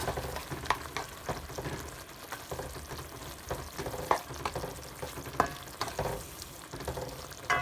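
Chicken being stirred with black pepper, sazon completa and salt, a steady scraping and mixing texture with soft wet clicks and occasional sharper knocks, close and moderately quiet, no voices.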